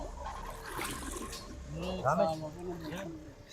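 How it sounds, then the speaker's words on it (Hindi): Heavy running water gushes and splashes steadily, fairly quiet and close, while people talk over it. "पानी तो बहुत ज्यादा आ रहा है"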